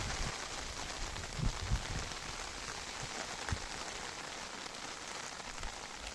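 Heavy rain pours steadily during a downpour at Bhagamandala's Triveni Sangam, a dense, even hiss of drops striking surfaces with a few louder splashes, continuous and without voices.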